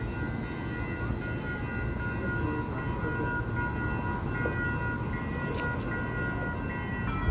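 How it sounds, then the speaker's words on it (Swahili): An electric commuter train in the USA pulls away with a constant low rumble and rattle of rail cars, close and steady, with one brief high screech partway through. "na hizo ndo treni za umeme, na hiyo inaondoka ile"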